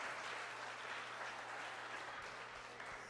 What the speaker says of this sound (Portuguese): Vamos aplaudir a Sara